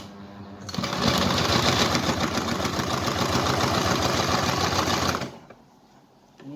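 A sewing machine stitches a face mask, running at an even pace for about four seconds with a fast regular needle clatter and motor whir, close and fairly loud, starting and stopping cleanly.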